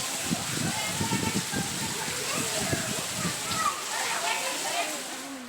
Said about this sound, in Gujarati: ભારે પવન સાથે ધોધમાર વરસાદ શરૂ થતાં